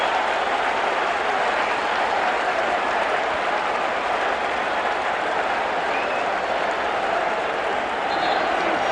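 Arena crowd at the 1988 NBA Finals Game 7, Lakers versus Pistons, roars in a loud, continuous wash of cheering and applause that holds for the whole stretch, with little sign of individual voices.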